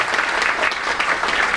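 A crowd applauds an assembly at a democracy rally session, steady dense clapping from many hands, loud and close throughout.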